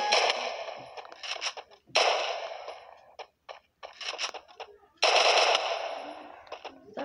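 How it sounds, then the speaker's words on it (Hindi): Rapid bursts of automatic gunfire, loud and close, broken up by short pauses between volleys. "ये गोली चलाते हैं"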